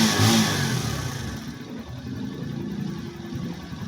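A car engine just back from repair is revved hard, a loud rising roar at the start that settles into a steady, rough mid-pitched running drone, close to the microphone with no voices.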